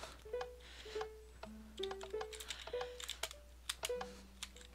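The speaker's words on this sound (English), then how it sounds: "people whining about my keyboard noise" Rapid computer keyboard typing during a Minecraft parkour game session: a steady run of sharp, close clicks and key taps, mixed with short tonal game sounds.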